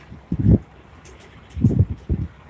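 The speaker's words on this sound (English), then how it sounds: "It's kind of windy out here" Gusts of wind at an oil field buffet the microphone in low, rumbling bursts, two main blasts with quieter rustling between them.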